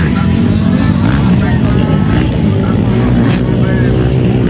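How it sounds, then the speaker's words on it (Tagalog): A small motorboat engine drones loudly and continuously during a boat race final, a steady high-revving buzz with a commentator talking over it. "Ang liit ng motor ni Zaira mga ka-sports."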